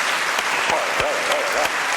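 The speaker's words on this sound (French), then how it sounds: "Applaudissements." Steady applause from a French television studio audience, continuous clapping throughout with a few louder claps standing out.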